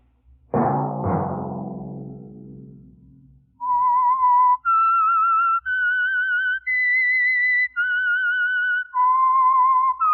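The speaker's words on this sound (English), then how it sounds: "Let that whistle be your signal for the Signal Oil program" A short musical chord fades, then a clear whistled signal tune for a radio program, several sustained, wavering notes, bright and close, each note separated by tiny breaks.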